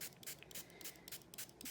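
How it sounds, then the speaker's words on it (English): A hand spray bottle mists water onto paper laid over polymer clay for an image transfer, giving a series of quick, soft, faint spritzes in an otherwise quiet room. "now I am going to spray water on it to saturate it"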